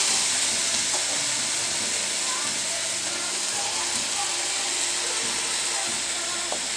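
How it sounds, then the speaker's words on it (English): Callaloo, turkey and shrimp with garlic stir-fry in a hot pan, giving a loud, unbroken sizzle close by, with faint scraping of stirring mixed in. "so I can stir it, fry it. I just put my garlic inside"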